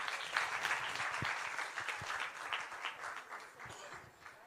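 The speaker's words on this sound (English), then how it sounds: "Clap for her, please." Audience applause at a live session of the 2019 Eastern Africa Music Summit, a steady patter of many hands clapping at moderate distance that slowly fades over a few seconds, with no talk over it.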